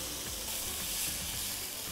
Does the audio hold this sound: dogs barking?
no